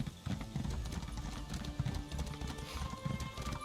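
Horse hooves clip-clop in the fantasy video game The Elder Scrolls Online, around the docks of the High Isle region. A steady, close trotting rhythm of repeated hoof strikes continues throughout, with faint game ambience behind it.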